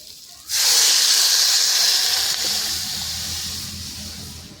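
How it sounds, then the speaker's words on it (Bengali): Water splashed into a pan of nearly fried cauliflower bursts into a loud, sudden hiss of steam that keeps going and slowly fades into a softer bubbling simmer, with no voices. "ফুলকপিগুলো কিন্তু ভালোভাবে ভেজে নিচ্ছি। প্রায় ভাজা হয়ে গেছে। আর এবার কিন্তু আমি জল দিয়ে দেবো।"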